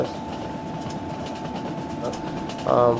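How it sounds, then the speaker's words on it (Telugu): A steady mechanical train engine rumble in the game Indian Train Simulator, with a sustained tone, ending in a brief louder burst; faint talk underneath. "గేమ్ ఇంజిన్ సౌండ్ మామూలుగా ట్రైన్ సౌండ్ ఎలా వస్తుంది చూసారా"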